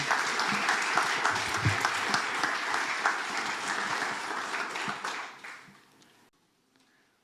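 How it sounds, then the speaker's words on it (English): An audience applauds to welcome a guest expert speaker at a library lecture on Mexican history, steady clapping from a room of people for about five seconds before fading out to near silence. "let's give him a round of applause"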